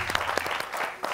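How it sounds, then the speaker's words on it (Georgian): Studio audience applause on a Georgian comedy game show, a dense, steady burst of clapping lasting about a second with no talk over it. "მომილოცავს აპლოდისმენტები."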